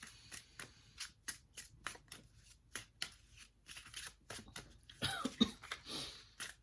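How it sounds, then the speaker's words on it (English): Tarot and oracle cards are shuffled by hand in a run of quick riffling bursts with short gaps, close and fairly quiet, ending in a denser flurry of handling. "I'll shuffle them, then we'll go to the page in the book."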